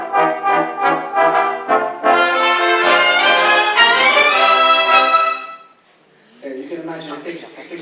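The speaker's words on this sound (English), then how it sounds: "This is the sound of the brass section." Orchestral brass section of the ABS-CBN Philharmonic Orchestra playing sustained, rich chords that swell and hold, then a brief pause before a softer brass phrase resumes.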